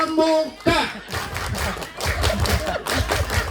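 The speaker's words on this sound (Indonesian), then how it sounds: "Tepuk pramuka." Rhythmic patterned clapping of the tepuk pramuka scout clap, done by an audience at an Islamic sermon gathering in a village near Bandung. The claps are mixed with chatter and cheering from the crowd.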